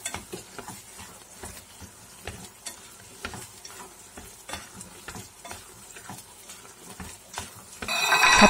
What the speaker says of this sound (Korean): 소고기가 양념에 잘 섞이도록 젓가락으로 저어줍니다.